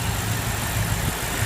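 A 2014/2015 BMW M5 F10 with its 4.4-liter direct-injection V8 idling, a steady, close, low burbling hum with an even, unbroken rhythm.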